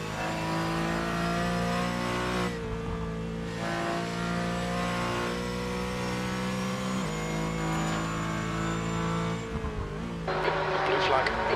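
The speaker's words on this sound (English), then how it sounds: "There's a faster class car approaching." A race car in a Nurburgring 24-hour racing video game holds a steady mid-pitched engine drone, its pitch shifting as a faster class car closes in, with a louder burst near the end.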